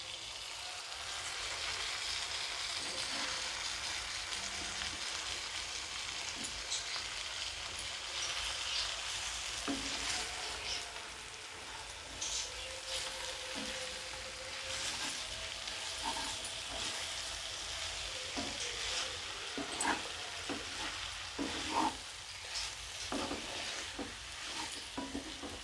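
Ivy gourd curry is stirred in a pan, giving a continuous soft sizzle with occasional scraping strokes and no talk.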